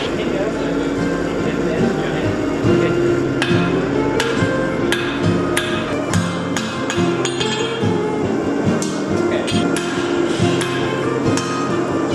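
Metal is hammered at a forging workshop, sharp ringing clinks struck in an uneven series over steady background noise, with people talking nearby.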